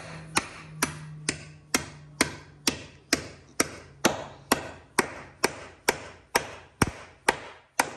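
A hammer strikes repeatedly during the installation of house windows, about fifteen sharp, evenly spaced blows close by with short decays between them, and no speech.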